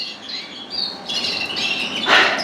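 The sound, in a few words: young canaries and native birds calling in a birdroom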